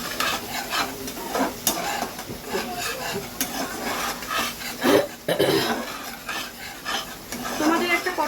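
Spices for egg korma, including ground black pepper and green chilli paste, stirred in a pan with a steady scraping stir and soft sizzle, a few louder clanks of the spoon against the metal.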